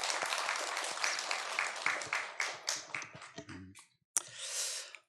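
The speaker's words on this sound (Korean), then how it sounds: "박수" A church congregation claps together in a fairly close, dense burst that thins into scattered claps and fades out, followed by a short pause and a faint sigh or breathy sound.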